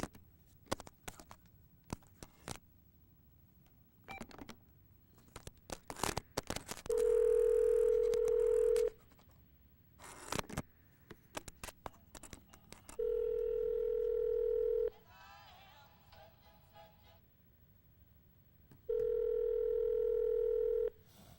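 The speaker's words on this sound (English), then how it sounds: "Is there a redialer here? Do I have to redial the thing all over again? There we are, redial." Telephone redialing: scattered button clicks and taps broken by three long, steady tones lasting about two seconds each, with a brief burst of rapid dialing beeps between the second and third, heard fairly close.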